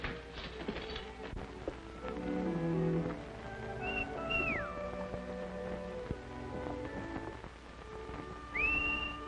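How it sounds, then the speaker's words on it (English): Someone whistles somewhere in a 1939 Western film. A few short rising whistled notes come through faintly over a busy background of soft music and ambient noise, with no speech. "I could have sworn I recognized that whistle."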